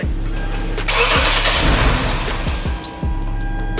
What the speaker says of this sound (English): So we'll see if this starts up.